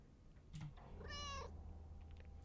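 A cat in a video game gives a single clear meow over a quiet background, preceded by a brief soft click.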